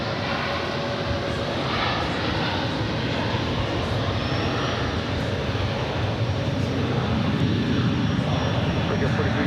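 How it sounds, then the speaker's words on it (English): An Aer Lingus Airbus A330 arriving from Dublin onto JFK's runway 22 left produces a sustained, moderately loud broadband jet roar that holds steady and grows slightly stronger toward the end. "Aer Lingus flight 107 coming up from Dublin. A330 up next. There it is."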